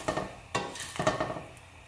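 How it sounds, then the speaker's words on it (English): Shrimp stir-frying in oil in a pan, with several sharp metal scrapes and clatters of a utensil against the pan over a faint sizzle, close up and alone. "เราเอากุ้งลงไปผัด กับน้ำมันนะคะ"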